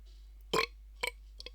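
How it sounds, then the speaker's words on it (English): A short, loud burp comes first, followed by a second briefer belch and a couple of faint smaller bursts in an otherwise quiet room. "I can't burp that much."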